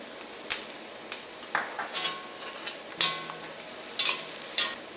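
Sliced onion and turmeric powder sizzle gently in hot coconut oil, with a spoon scraping and stirring in short irregular strokes and soft clinks against the pan, close by and moderately quiet.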